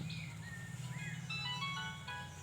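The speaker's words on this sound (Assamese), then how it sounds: "কাৰ ফোন আহিলে" A mobile phone ringtone plays a bright electronic melody of repeated short notes over a steady low hum indoors, continuous and moderately loud throughout.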